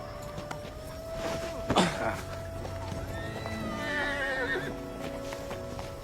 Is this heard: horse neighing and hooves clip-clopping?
yes